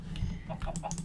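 Chickens clucking in the video game Minecraft, a few short, sharp clucks scattered over about a second, fairly faint over a low background hum.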